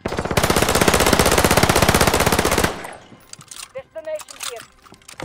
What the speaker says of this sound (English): Some machine gun here.